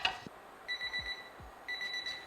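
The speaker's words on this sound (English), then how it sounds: "That's the timer" A kitchen timer alarm rings in bright, repeated electronic beeps, two short bursts separated by a pause, clear and close in a quiet kitchen while beans boil for homemade tempeh.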